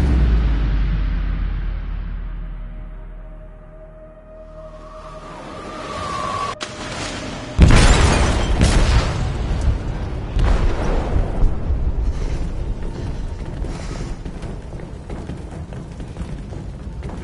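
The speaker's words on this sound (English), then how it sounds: "They detonated an explosive in the hold." An explosive detonates in a ship's hold in Detroit: Become Human, a fading low rumble and then a sudden heavy boom followed by sustained roaring, crashing debris.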